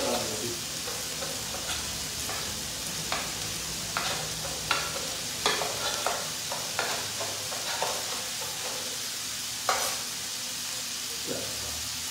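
Taco meat frying on a hot disco griddle gives a steady sizzling hiss, broken up by repeated scraping and chopping taps of a spatula against the metal, close and continuous.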